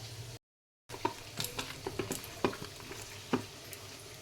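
Onion, ginger-garlic paste, turmeric and chili powder mixed and frying in a pan, a faint low sizzle broken by scattered stirring scrapes and clicks, with a short dropout near the start.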